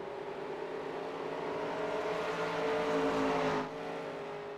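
Several vintage race cars in the iRacing sim run close together at Richmond, their engines droning in a steady, layered whine that swells slightly as they pass and then eases.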